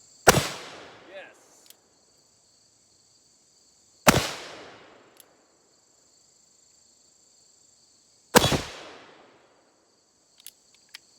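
Three loud, sharp shots from a Rogers & Spencer black powder revolver ring out at a private outdoor range, about four seconds apart, each one trailing into a short decay. Steady insect chirring continues in the background between shots.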